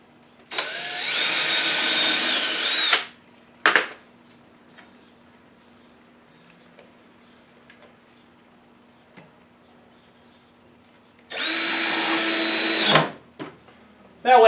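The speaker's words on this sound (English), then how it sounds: "let's go ahead and get some holes drilled in here and get this thing in." Power drill boring holes for a mobile miter saw table stand, two loud whirring bursts of about two seconds each separated by a long quiet gap with faint clicks and handling sounds.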